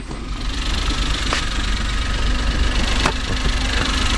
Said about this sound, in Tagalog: So dito tayo, check natin yung makina natin.